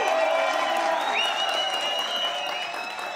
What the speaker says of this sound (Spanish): ¡Aplauso para la doctora!